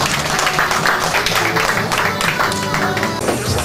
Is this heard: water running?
no